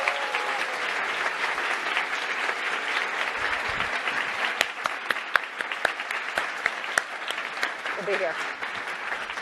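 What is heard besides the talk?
audience applause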